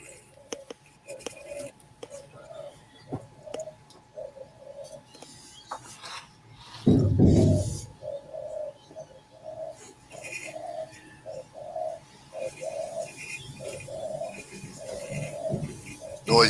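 Repeated soft pigeon coos sound in the background at a steady rhythm, faint and somewhat distant, with a louder burst of handling or rustle noise in the middle and people talking nearby.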